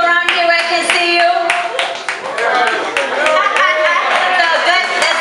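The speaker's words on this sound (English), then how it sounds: "Let's give him applause." An audience at a music video release party claps steadily for several seconds, close and lively, with voices chattering over the clapping.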